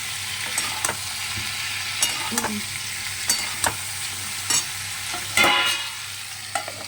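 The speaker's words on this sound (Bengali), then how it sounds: "এখানটায় তো সবজি ভাজতে বসিয়েছি বুঝতেই পারছো এটা ভাজা প্রায় শেষ" Mixed vegetables with drumsticks frying in a pan: a steady loud sizzle runs throughout, with regular scraping stirs of a utensil against the pan every second or so.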